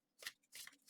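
An oracle card deck is shuffled in three quick, close riffling bursts separated by brief pauses, soft and crisp with no voices.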